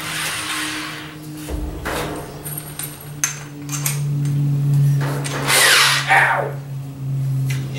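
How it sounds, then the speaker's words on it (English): A power drill boring drainage holes in the bottom of a galvanized metal trough, with a sustained motor whine and bursts of grinding as the bit bites in, close and loud. "I'm gonna drill a few holes in the bottom for drainage."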